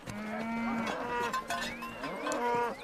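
Maasai cattle low in a loud, drawn-out chorus of overlapping moos, several animals calling near and continuously with rising and falling tones throughout.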